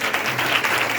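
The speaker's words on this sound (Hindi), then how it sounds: "एक बार जोर से यीशु मसीह के नाम की तालियां हो जाएं" Applause for Jesus Christ from a church congregation during a Palm Sunday sermon, a dense, steady wash of clapping filling the space throughout.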